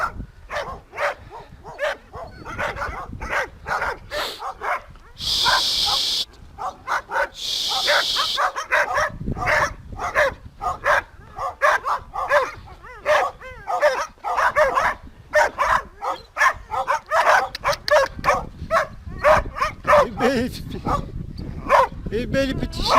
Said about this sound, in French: Ils aimeraient bien venir jouer avec lui, mais c'est des chiens.